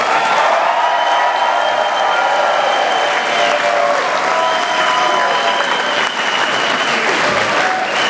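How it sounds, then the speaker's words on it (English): Campaign supporters at a victory party for Terry McAuliffe break into a long, loud round of applause, dense and continuous from start to finish, with some cheering mixed in. "give yourselves an enormous round of applause"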